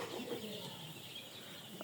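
Chickens cluck softly near a brooder, in short low calls over a steady background hum with no speech.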